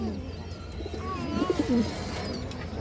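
Pigeons coo softly in a low, rounded rhythm near a pigeon seller's stall, the calls rising midway over a steady background hum with faint chirps around them.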